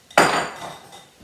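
Rinsed lentils tipped into a cooking pot land with one sudden clattering rush that quickly fades to a soft trickle.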